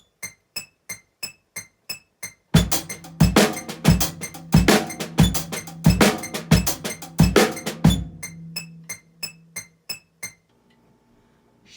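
A drum rudiment played as a paradiddle with its accent shifted one sixteenth note to land on the "e" of each beat: light, evenly spaced clicking strokes open and close the pattern, with a louder, heavier stretch of regularly recurring accented hits in the middle.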